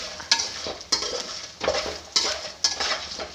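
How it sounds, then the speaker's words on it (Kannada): Fish curry ingredients sizzle in a pan while a metal spoon scrapes and stirs them in regular strokes, about every half second to second, close and fairly loud, with no talking. "ನಾನು ಎಲ್ಲ ಒಟ್ಟಿಗೆ ಹಾಕ್ಕೊಂಡು ನೀಟಾಗಿ ಫ್ರೈ ಮಾಡ್ಕೊತಾ ಇದ್ದೀನಿ."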